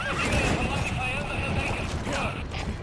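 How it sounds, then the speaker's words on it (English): A horse whinnies in Metal Gear Solid V: The Phantom Pain, its neigh rising and falling twice over hoof clip-clop and steady game background noise. "Instant horse."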